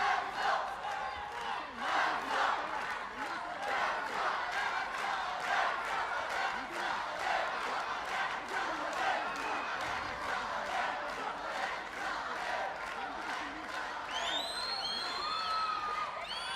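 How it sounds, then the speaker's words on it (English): Home crowd at a Karate 1 Premier League kumite match cheering and chanting in rhythmic bursts, a dense arena roar with pulsing claps and whoops throughout, steady and sustained, with occasional whistles toward the end. "Great delight from the home crowd."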